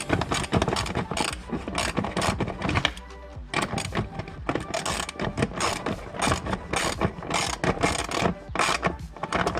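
A hand tool ratchets a bolt tight on the front bar of a Mercedes W204, rapid clicking strokes in quick bursts close to the microphone, with one short pause partway through.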